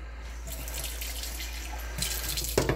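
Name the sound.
water being added to brownie batter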